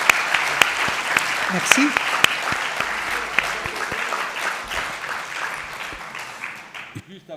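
Audience applause at a French maritime conference evening, a steady wash of many hands clapping close by that swells and then tapers off toward the end, with a brief spoken thanks near the finish.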